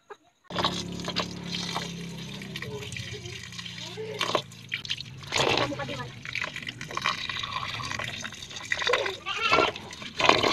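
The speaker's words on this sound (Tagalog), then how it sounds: "uhugasan na namin and then konting tubig" Rice grains for homemade rice wine (tapay) are washed in water, with splashing, trickling and swishing close up as a person talks throughout.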